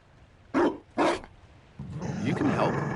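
Two short, loud dog barks with growling from a hound in the fantasy role-playing game Dragon Age: Inquisition, followed by a steadier rumbling growl amid game sounds.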